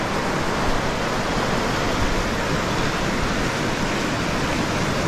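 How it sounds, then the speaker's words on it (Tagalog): Strong floodwater rushing, a dense, continuous roar of churning water that stays loud and even throughout, with no voices. "lakas ng baha"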